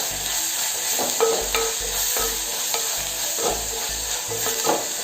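Drumstick leaves sauté in a pan with curry leaves, a steady sizzle broken by repeated scraping strokes of a spoon stirring at a brisk, uneven rhythm, close and clear.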